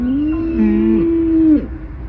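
A cow bawls loudly and close for her calf on a farm, one long drawn-out moo with a falling end, heard alone without talk.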